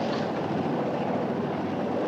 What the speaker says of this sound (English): Floyd, look. It's a helicopter.